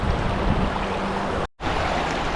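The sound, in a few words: Murray River water flowing over rocks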